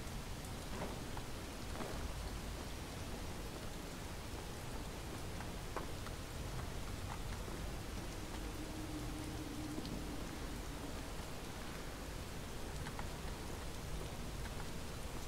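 Rain falling in the video game Relics of Hyrule, a steady, even hiss of drops with faint scattered patters, fairly quiet and unbroken throughout with no voices.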